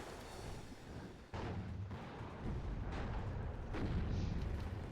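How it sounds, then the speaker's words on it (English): Artillery fire in the WARNO video game: dense, rumbling barrages of booming impacts that hit hard and roll on, growing heavier toward the end, with no talk. "Here comes the artillery."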